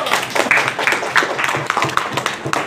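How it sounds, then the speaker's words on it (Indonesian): An audience at an Islamic lecture on honesty in dealings claps in a brisk, fairly loud burst with distinct individual claps and no speech over it. "Oke, tepuk tangan dulu"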